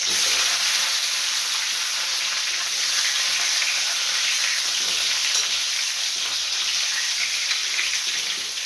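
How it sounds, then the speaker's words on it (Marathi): Garlic fries in a hot pan with a loud, continuous close-up sizzle and hiss that holds steady throughout, with no talking. "हे दोन लसूण आणि आता हे तळून तळण्यासारखं तसे फ्राय करते"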